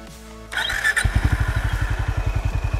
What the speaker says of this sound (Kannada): ಈಗ ಎಕ್ಸಾಸ್ಟ್ ನೋಟ್ ಕೇಳೋಣ ಬನ್ನಿ.